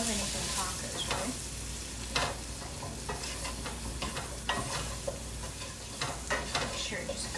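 Taco meat with spices sizzles and fries in a pan while being stirred, a constant crackling hiss broken by scraping strokes of the utensil, close and steady.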